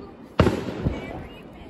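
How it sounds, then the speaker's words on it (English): A single firework bursts over a lake on the Fourth of July with one sharp boom and a softer echoing thud, heard from a distance. People talk nearby. "This random lake over here has better fireworks than us."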